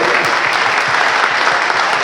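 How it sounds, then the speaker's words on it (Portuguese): A church congregation claps enthusiastically during a worship service, a loud, dense, continuous burst of applause from many hands close by. "Vamos aplaudir Jesus pela vitória do pastor Leonardo."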